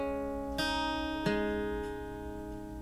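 Acoustic guitar with a capo picks the opening notes of a song's intro, a few single plucked notes ringing out quietly and decaying, with no talking.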